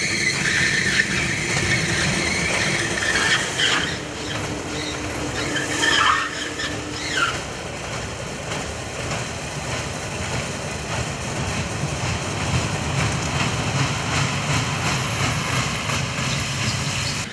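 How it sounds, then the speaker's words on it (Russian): Amusement park ride cars moving along their track, loud grinding and screeching rolling noise with shrill squeals early on, steady and continuous, no talking. "Во время движения аттракцион действительно издает пугающие звуки."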